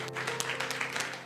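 Faint applause rises from a crowd during a live Holy Week night gathering, a brief patter of scattered claps heard from a distance over a low, steady hum.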